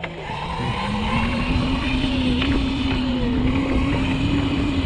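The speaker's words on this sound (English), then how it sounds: "This car better not keep going." A car engine drones steadily and loudly up close as the vehicle drives along a road, holding a constant hum throughout with no speech.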